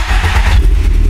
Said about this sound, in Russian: Мы заводим автомобиль.